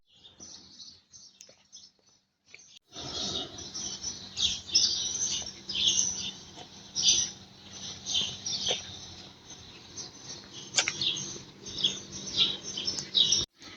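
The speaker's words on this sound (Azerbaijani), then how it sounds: "Quşların səsini eşidin deyə musiqi falan qoymadım" Birds chirp and tweet outdoors in bursts of short, bright calls. They start after a quiet opening and go on over a low steady background hum, with no talk.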